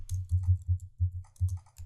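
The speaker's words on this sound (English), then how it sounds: "Between the tags, I'm typing the text company picnic." Keys clack on a computer keyboard in quick irregular bursts, close and clear, with no voices.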